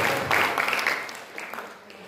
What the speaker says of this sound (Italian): Un applauso Luca.